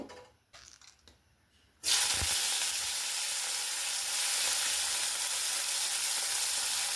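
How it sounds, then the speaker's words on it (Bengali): Prawns hit hot oil in a village kitchen wok, an abrupt burst of loud sizzling that starts after a couple of seconds of quieter handling and then holds a steady, intense hiss with no talk. "সব মাছগুলো ভেজে নেব।"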